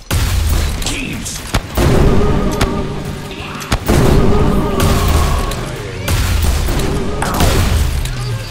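Grenade explosions in the video game Postal Brain Damaged, set in a mall, boom loud and close in repeated heavy blasts with rumbling tails, several overlapping bursts filling the whole stretch.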